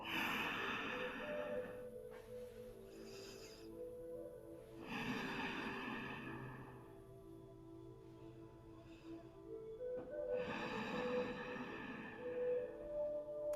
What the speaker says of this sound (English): Ocean breathing, fogging the middle of your mouth.